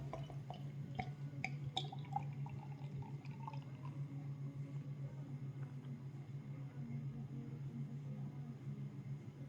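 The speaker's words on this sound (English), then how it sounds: "Okay, here goes the pour." McEwans Headspace beer poured from a freshly opened can into a glass, giving a quiet, steady liquid gurgle with a few fizzy drips near the start.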